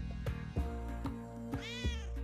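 A kitten in the game Spelunky 2 meows several times, producing bright, rising cries over rhythmic game sounds and background music.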